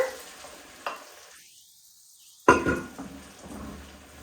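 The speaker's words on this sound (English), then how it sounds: "I'm just gonna stir this around because we want to incorporate the flour mixture into the milk" Milk being stirred into a flour mixture in a pan, a soft scraping and bubbling texture broken by a sudden clatter of spoon against pan partway through, then continued stirring.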